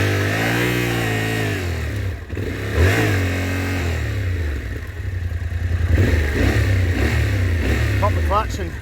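A T7 tractor stuck on a hill revs as the clutch is popped, its mid-pitched engine droning steadily and rising in a strained surge, with someone talking over it.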